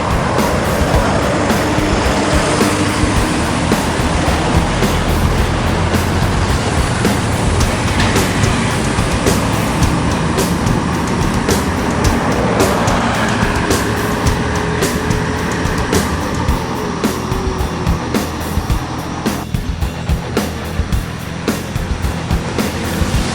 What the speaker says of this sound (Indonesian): Keberangkatan bus Padang Jakarta pada hari ini